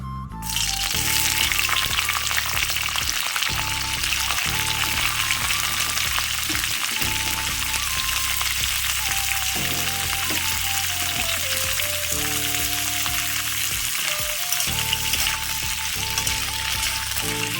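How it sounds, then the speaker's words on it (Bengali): Capsicum pieces fry in hot oil for a dry potato-capsicum curry, a loud continuous sizzle and crackle, close, with soft music underneath. "তো ওই তেলের মধ্যে ক্যাপসিকামগুলো ভেজে নেব"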